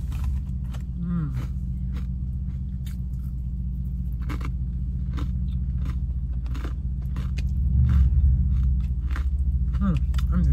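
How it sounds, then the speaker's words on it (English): Crunching and chewing during someone's first meal of the day, close irregular bites over a steady low rumble like an idling car, with murmured hums and occasional voice. "I'm just crunching."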